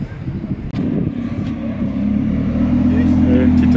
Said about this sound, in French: Une petite Audi R8.